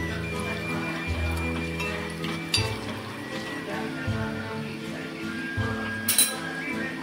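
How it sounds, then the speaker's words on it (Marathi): A spoon stirs garam masala and homemade red spice mix in a pan for a pumpkin and prawn dish, with repeated light metallic clinks and scrapes at moderate loudness over a steady background hum. "आता हे आपण व्यवस्थित मिक्स करून घेणार आहोत।"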